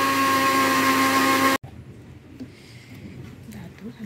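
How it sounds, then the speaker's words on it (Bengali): A kitchen mixer blends boiled mangoes for aam panna, a loud steady motor whir lasting about a second and a half before cutting off abruptly, leaving quiet room noise. "মিক্সি করছে আমগুলোকে।"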